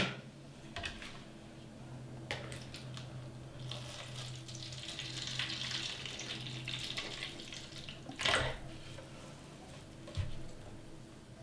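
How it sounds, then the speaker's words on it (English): Water pours steadily into a container used as an outer pot for replanting tarragon, a continuous splashing rush that swells in the middle, with a couple of clunks and no voices. "I will add water to the container that I'll be using as the outer pot"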